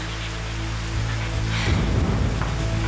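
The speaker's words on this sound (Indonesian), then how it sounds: "Hujan lagi ya." Steady rain falls throughout, a dense continuous hiss that swells slightly after the first second with a low rumble beneath, heard alone with no voices.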